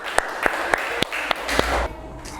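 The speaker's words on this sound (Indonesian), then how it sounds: "Terima kasih, tepuk tangan dulu." A class clapping, a handful of distinct claps arriving roughly every quarter second over a soft crowd of applause before fading out, close and moderately loud.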